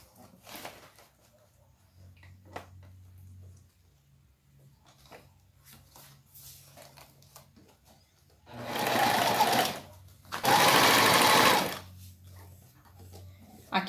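A domestic sewing machine stitches a plastic bag, running in two loud, steady bursts of a few seconds each, with quieter handling and low motor hum between them.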